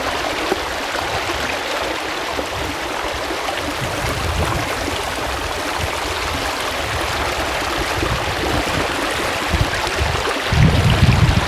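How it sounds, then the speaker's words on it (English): Feet wading and splashing through a shallow stream in the woods, a loud continuous rush of churning water with heavier sloshes near the end, close to the microphone with no talking. "Splash, steps in the water."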